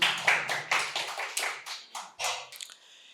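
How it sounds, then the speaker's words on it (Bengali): Bursts of hand clapping from an audience at a quiz competition held at Santiniketan Medical College and Hospital, greeting a correct answer: uneven, fairly loud claps that come in short waves and thin out toward the end, with no talk. "জোরে হাততালি।"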